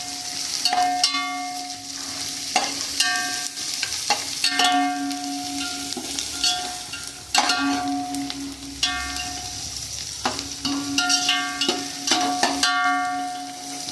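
Four green chillies sizzle and fry in a pan for mutton biryani, with repeated scraping and clanking from stirring over a steady crackle and a faint tonal hum in the background.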